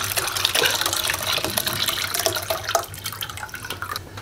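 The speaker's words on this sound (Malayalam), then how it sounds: "വെച്ച് പുളിപ്പിച്ച് വെച്ച ഇഞ്ചിയും പഞ്ചസാരയും മിക്സ് നമ്മൾ ഒഴിച്ചു കൊടുക്കുക" Fermented ginger and sugar mixture being poured into a container for homemade beer, a steady close liquid splashing and gurgling pour.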